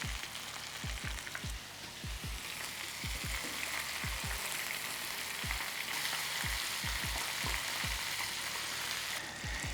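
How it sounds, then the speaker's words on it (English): Oil bubbles and sizzles steadily in a deep fryer cooking vegan ghost pepper "chicken", a dense crackling hiss with scattered sharp pops, heard up close with no talking. "that's it, we're frying."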